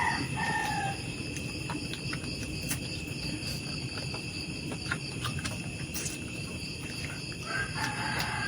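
Chickens at a rural Filipino home, with a rooster crowing at intervals over a steady, loud bed of cricket and insect chirping that runs throughout.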